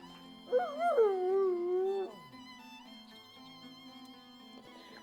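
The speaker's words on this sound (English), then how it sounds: "Scratch barks merrily in something like agreement." A dog in Baldur's Gate 3 gives a short rising whine that turns into a drawn-out howl, up close over quiet background music.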